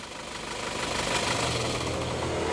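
A Toyota Innova Reborn diesel engine runs at idle, a steady close rumble with a faint knocking clatter and broadband hiss holding level throughout, with no talk.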